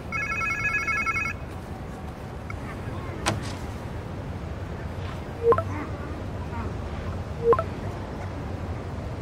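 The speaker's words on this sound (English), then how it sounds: "Sounds like somebody's phone." A phone rings in the video game Marvel's Spider-Man 2, a short repeating electronic ring at the start, heard over steady ambient rumble with a few sharp game sounds later.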